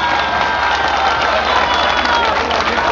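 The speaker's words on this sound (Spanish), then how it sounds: "Fuerte el aplauso de más entonces con los grandes." Live concert audience at an outdoor show in Calle Larga applauds loudly and cheers, a dense continuous crowd roar sustained throughout.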